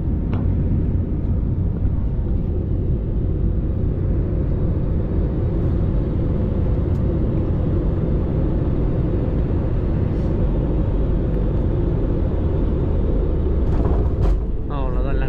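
Inside an airplane landing in Singapore, a constant heavy cabin rumble and engine roar fill the space, with a person talking over it.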